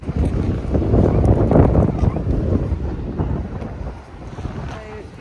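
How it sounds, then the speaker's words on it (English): Strong gusty wind on a beach at Ladram Bay, Devon, buffets the microphone in loud, rumbling bursts, with surf faintly beneath, easing toward the end. "Even if it is a bit windy"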